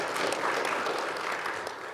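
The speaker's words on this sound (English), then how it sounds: "Let's give the Honorable Governor and our Honorable Minister another round of applause" Dense, steady applause from an audience at a ministerial regional business engagement in the Kharas Region, a full wash of many hands clapping that holds for two seconds and eases slightly at the close.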